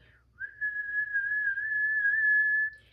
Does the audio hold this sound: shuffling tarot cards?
no